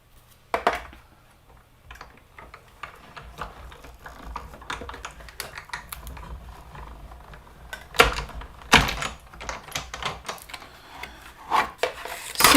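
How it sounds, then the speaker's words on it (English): A Stampin' Cut and Emboss machine runs card stock through its rollers, producing uneven rubbing and ratcheting clicks with sharp bursts, close and fairly quiet, with no talking. "I'm going to go ahead and throw that on the Stampin' and Cut and Emboss machine"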